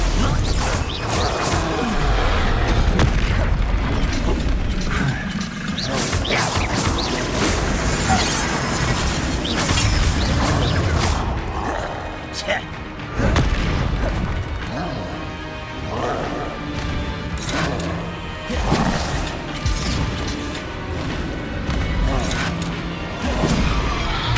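Spell blasts and crashes from a Hogwarts Legacy duel, including Stupefy, burst out repeatedly amid combat noise, loud and dense, with voices shouting spell names over the fighting.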